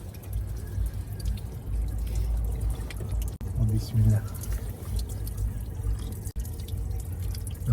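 Water pouring and dripping from a public drinking fountain on a city street in Batumi makes a steady splashing flow, with a voice speaking briefly over it.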